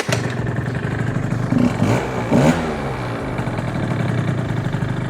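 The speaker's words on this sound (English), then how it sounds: "It just revs up now, which is what it should do." Scooter engine fitted with an upgraded carburetor, idling with a steady rough putter and then revving up sharply twice in quick succession before settling back, loud and close with no talking.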